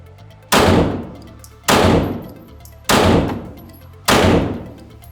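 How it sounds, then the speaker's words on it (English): Four loud, sharp gunshots at an indoor shooting range, fired one at a time at an even pace about a second apart, each crack followed by a brief decaying echo. "now we got dominant hand, draw 5 shots on target 5"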